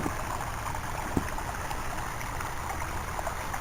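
Water from a small waterfall in a garden wildlife pond splashes and trickles in a steady, faint, unbroken rush, with a light tap heard once.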